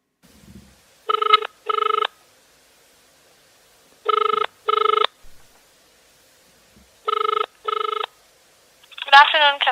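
Telephone ring heard through a played call recording, three pairs of electronic ring bursts spaced evenly apart, each pair two quick buzzy rings, followed by a brief warbling sound at the end.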